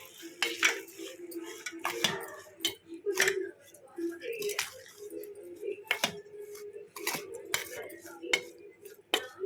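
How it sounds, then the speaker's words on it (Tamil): Chopped raw mango and masala for an instant pickle are mixed in a metal bowl, with repeated sharp clinks and scrapes of a spoon against the bowl close by and faint talk in between. "இதெல்லாம் நல்லா மிக்ஸ் பண்ணிக்கலாம்."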